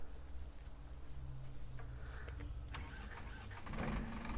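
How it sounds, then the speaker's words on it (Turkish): A bus engine cranks and catches as the driver starts it for a trip toward the Kirkenes mine, a low continuous rumble heard from a front passenger seat, swelling louder near the end as it fires. "Kaptan da marşa bastı."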